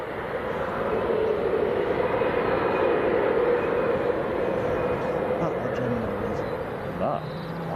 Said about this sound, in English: So that is the German Airways from Amsterdam